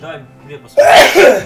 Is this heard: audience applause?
no